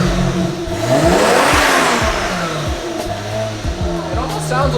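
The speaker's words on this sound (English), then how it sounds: "Yeah, the turbos sound a little louder from the front." A twin-turbo 1JZ engine with a newly installed downpipe revs up and down in loud, close bursts, the pitch sweeping high then falling back repeatedly, with turbo whoosh over the engine note.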